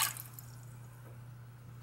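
Water poured into a pot holding fresh ginger and turmeric for a homemade cough remedy, a brief splash at the start that settles into faint dripping and trickling, close and quiet over a steady low hum.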